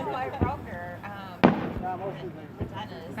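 Fourth of July fireworks set off near a back deck, a few sharp bangs and pops heard under close conversation that keeps going throughout.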